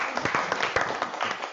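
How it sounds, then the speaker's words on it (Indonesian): Congregation clapping at a Christian worship service, a dense stretch of hand claps with uneven louder bursts, fairly close and steady. "Boleh berikan tepuk tangan."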